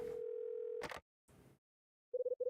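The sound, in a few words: telephone call tone in video game Last Window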